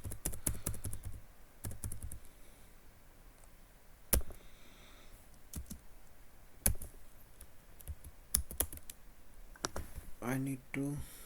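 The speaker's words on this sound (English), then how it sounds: "There is something wrong with the typing here." Someone types on a computer keyboard, soft irregular key taps with occasional sharper clicks, quiet and close, ending with brief speech.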